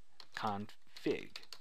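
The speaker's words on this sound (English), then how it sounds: "Now type in ipconfig." A computer keyboard is typed on in short bursts of faint, quick key clicks, heard under a voice that talks over most of the moment.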